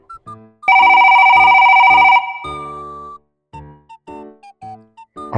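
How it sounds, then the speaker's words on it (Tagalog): A phone ringtone plays loudly for about a second and a half, followed by a call tone and repeated beeps as a delivery rider phones the pick-up contact at a private property. "Tawagan na muna natin ang ating pick-up."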